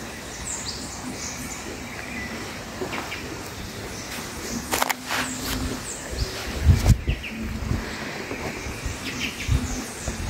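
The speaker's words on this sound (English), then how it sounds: "And hear the birds." Several birds chirp and call outdoors over a steady background hiss, with scattered tweets and a few louder nearby notes, no talking.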